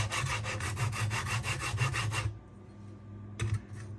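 Knife blade drawn across a Sharpworx utility sharpener: about a dozen quick, rhythmic rasping strokes close to the mic, a brief pause, then a few more scraping passes.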